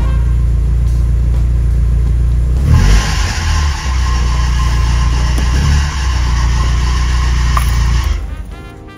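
A BMW 2002 engine starts and runs steadily with a loud, continuous rumble and a whining alternator belt, idling on for several seconds before cutting off near the end.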